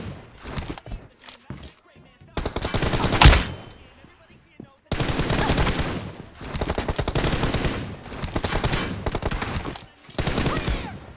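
Rapid bursts of automatic gunfire in a team deathmatch shooter game, loud and close, coming in several clusters with short gaps between them and a brief spoken exclamation near the start.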